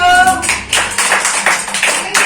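Children in a counting fish game clap together in a quick burst of uneven hand claps, close and fairly loud, with voices heard at the start.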